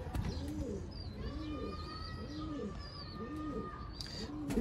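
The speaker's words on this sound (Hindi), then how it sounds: "कामट वाले कबूतर हैं।" Sialkoti Kamat pigeons coo in a steady rhythmic series of low, rolling calls, with faint chirps and whistles from other birds above them.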